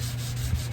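Paint flakes are sanded off a vintage International Harvester tool box by hand, a short, close, steady rasping rub with a low hum beneath.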